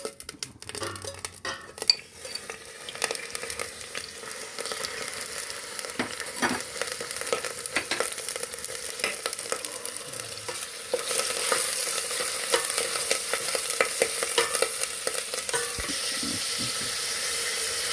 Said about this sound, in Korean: 소고기를 볶겠습니다.